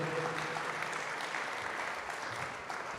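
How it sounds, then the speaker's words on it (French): Audience applause fills a French conference hall, a steady dense wash of clapping lasting the full few seconds with no pauses or voices over it. "on peut applaudir Laurent Galichet et Gaëlle Bonhomme"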